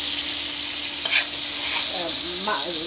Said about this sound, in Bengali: রুই মাছের তেল দিয়ে সুন্দর করে কষিয়ে নিচ্ছি